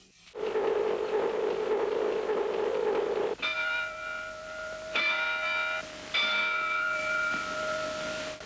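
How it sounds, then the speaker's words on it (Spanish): A ship's lookout bell sounds in a Titanic documentary: after a few seconds of steady noise, three distinct ringing bell strikes follow with spaced pauses, each ringing out clearly and decaying. "entonces escucharán 3 campanadas del vigía"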